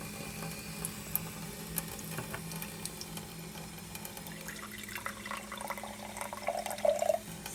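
Lukewarm water is poured into juice to soak watermelon seeds, producing a steady, faint trickling splash under a low background hum, with a brief gurgle near the end.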